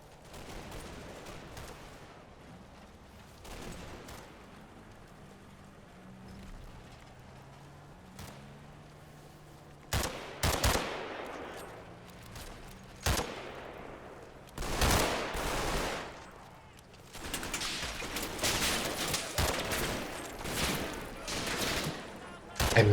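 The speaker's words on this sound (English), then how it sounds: "MG fire comes from the hedgerow to the west" Machine-gun fire in a Combat Mission battle from a hedgerow, in World War II Normandy: scattered bursts of distant rattling fire early on, then louder, sharper repeated bursts and volleys building through the second half.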